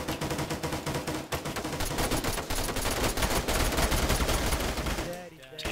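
Sustained, dense gunfire in a military video game operation: rapid machine-gun bursts and overlapping shots, loud and close, firing continuously before thinning out near the end.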